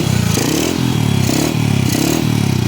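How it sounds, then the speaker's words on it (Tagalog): Honda Wave 100 motorcycle engine running steadily close by, a loud continuous idle-to-rev drone with rhythmic surges roughly every half second after starting, no talk over it. "Testing muna tayo, paandar mga padi."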